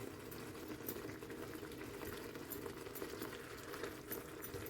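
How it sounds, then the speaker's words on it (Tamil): Prawn curry with tamarind and tomato simmers in a pot, a steady soft bubbling and crackling that runs evenly throughout with no talk. "தக்காளி பழம் புளி எல்லாம் சேர்ந்து அவியட்டும்"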